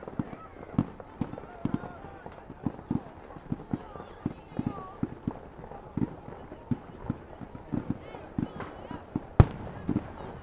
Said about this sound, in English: Yep, these fireworks are continuing.